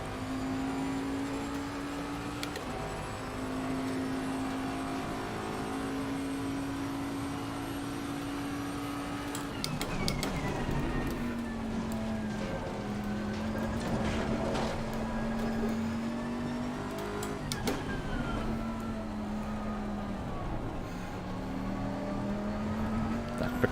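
JB Euro GT3 race car on the Nürburgring in Assetto Corsa Competizione, a steady high engine drone that drops pitch through a couple of downshifts, with gear clunks and tyre noise, no voices.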